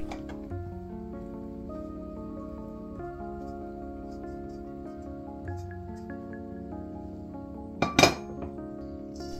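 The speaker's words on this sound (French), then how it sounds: "je viens prendre le moule à gâteau et je verse mes pommes à l'intérieur" Apple pieces tumble into a cake mould for a crumble in one short clattering burst near the end, after quiet kitchen clinks over a soft musical background.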